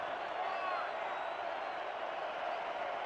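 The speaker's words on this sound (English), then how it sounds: "you hear the crowd come to their feet trying to cheer on the defense" Stadium crowd at a football game rising to its feet to cheer the defense on third down, a dense, steady roar filling the whole stretch without letup.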